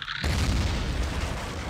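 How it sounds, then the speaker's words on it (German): A Jump Toad creature bursts in Half-Life: Poke646, a sudden loud boom after a brief quiet moment, trailing into a long rumbling, noisy wash that stays heavy through the rest of the stretch. "die Viecher explodieren ja richtig ekelhaft"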